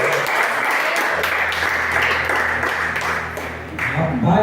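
Church congregation applauding in praise, sustained clapping from a large group with a held instrumental tone underneath and some voices mixed in, continuing steadily throughout.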